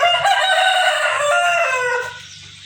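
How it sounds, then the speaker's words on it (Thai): A loud, nearby fighting rooster crows in one long drawn-out call, with faint low clucking from chickens underneath. "นี่ก็จะเป็นไก่เลี้ยงตีนะครับ"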